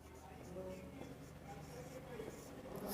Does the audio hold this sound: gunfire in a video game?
no